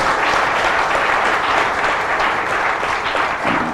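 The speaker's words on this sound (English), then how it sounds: "the panel deserves a very, very big round of applause." Audience at a national conclave on the Ukraine crisis gives a panel sustained applause, a dense, loud wash of many hands clapping that continues evenly from start to finish.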